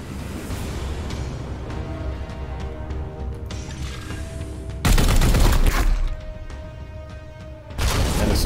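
Supporting gunfire in Warhammer 40,000: Chaos Gate Daemonhunters, loud rapid bursts of automatic fire crackling over a droning battle backdrop, with a heavy fusillade erupting midway and another starting near the end.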